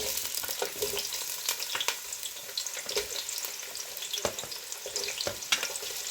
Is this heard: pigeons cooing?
no